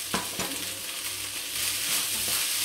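Day-old leftover rice hitting a hot pan for egg fried rice, a steady loud sizzle with a few scraping stirs near the start, no voices.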